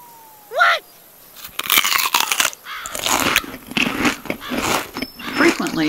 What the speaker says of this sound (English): the giraffe makes loud noises when he chooses food with his mouth open